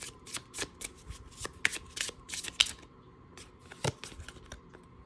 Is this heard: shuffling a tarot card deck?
yes